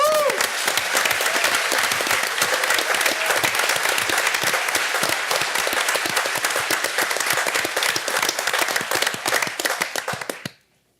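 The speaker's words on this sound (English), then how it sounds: "So let's give her a round of applause" A council meeting audience applauds a police sergeant, the first female sergeant in Garfield, with sustained dense clapping that holds steady for about ten seconds and then stops abruptly.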